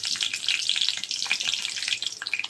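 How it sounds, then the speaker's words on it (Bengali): Panch phoron and garlic hit hot oil for a mixed vegetable tempering: dense, crackling, popping sizzle up close with rapid irregular spits and bursts throughout, loud and continuous with no voices. "সবজি বাগারের জন্য দিয়ে দিলাম তেলের মধ্যে পাঁচফোড়ন"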